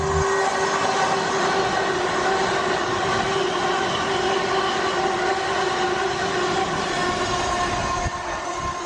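Class 360 passenger train running through a station platform, a loud sustained roar with steady electric whine and rail rumble filling the whole stretch, easing slightly near the end.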